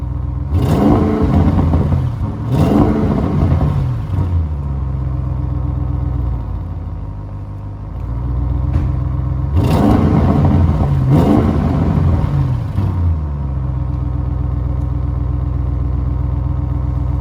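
An Audi RS6 engine roars as it starts, then revs in two pairs of loud blips separated by a steady idle, heard close with no talking.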